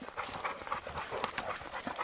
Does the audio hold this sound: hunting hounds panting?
yes